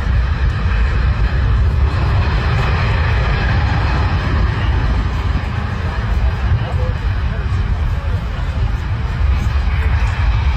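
The engines of a C-17 Globemaster give a loud, steady roar as it maneuvers backward on the runway at an airshow, with a continuous rumble and no clear breaks.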